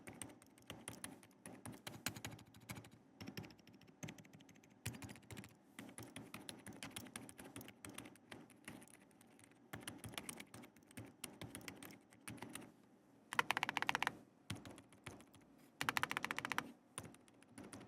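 Dense, steady clacking of a custom 75% European-layout mechanical keyboard fitted with silent switches, fast close-up keystrokes running throughout with a few louder bursts of quick rattling presses near the end.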